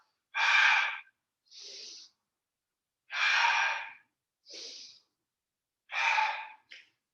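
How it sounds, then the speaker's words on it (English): Loud, deliberate yoga breathing during a core session with a block: three cycles of a long rushing inhale followed by a shorter, softer exhale, evenly spaced with silent pauses between breaths, close to the microphone. "I'm breathing a little louder so you can hear the breath cadence."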